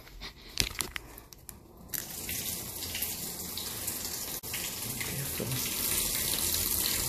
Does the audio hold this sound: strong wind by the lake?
no